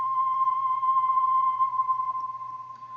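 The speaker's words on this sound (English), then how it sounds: "then I got this sound here called the Ocarina One Shot." An ocarina one-shot sample played in FL Studio gives a single steady, pure-sounding tone that sustains for about three seconds and fades slightly at the end, with no talk over it.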